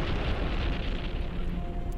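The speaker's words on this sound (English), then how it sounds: "Oh, it exploded." A space box blows up in The Universim, a dense rumbling blast that fills the whole short stretch with heavy low-end noise and no voices.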